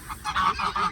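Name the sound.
white duck honking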